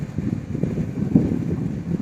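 Strong cold wind at a misty hill viewpoint in Yercaud, buffeting the microphone as a steady low rumble with gusts throughout, no voices.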